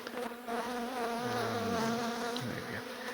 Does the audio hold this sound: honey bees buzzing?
yes